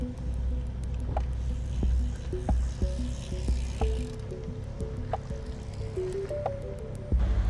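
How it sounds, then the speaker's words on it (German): Water being refilled into a bicycle bottle at a rest stop on a 400 km audax brevet, with squishy trickling and dripping sounds and scattered clinks over a steady low outdoor rumble, no talking. "Und das Wasser wurde wieder aufgefüllt."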